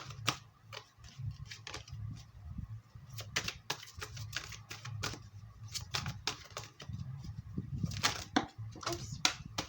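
Oracle cards from a Romance Angels deck being shuffled and pulled: soft irregular ticks and flicks of card stock, close and quiet, over a low background hum.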